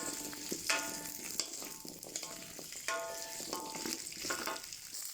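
Sliced ginger, garlic and chili fry in oil in a pan for a village-style fish curry, giving a soft, continuous sizzle with light metallic clinks of stirring at intervals.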